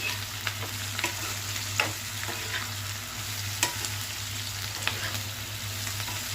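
Bitter gourd curry is stirred in a hot pan, a steady close sizzle broken by a few scraping knocks of the spoon.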